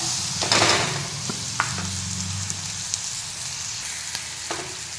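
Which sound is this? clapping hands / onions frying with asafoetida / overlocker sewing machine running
onions frying with asafoetida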